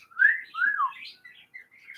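A pet bird whistles close by: two bright rising-and-falling whistles, then a run of softer chirpy notes, with no voices.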